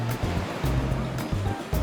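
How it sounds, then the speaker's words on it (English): Ocean waves crash on the beach by a pier at Puerto Vallarta, a loud, broad wash of surf with rhythmic surges arriving every half second or so, close and unbroken by speech. "We have the pier, we have the beach, and the sound of the crashing waves."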